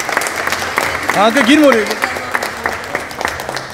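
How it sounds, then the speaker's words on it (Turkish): Guests clapping at a wedding ceremony, scattered applause running throughout while someone speaks briefly in the middle. "Alkışlıyoruz."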